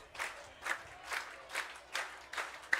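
A baseball crowd of over 2,000 at a ballgame claps in steady rhythmic bursts, about two per second, a fairly distant, reverberant sound with no clear talk on top.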